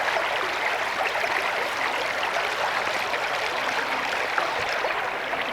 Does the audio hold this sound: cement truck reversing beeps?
no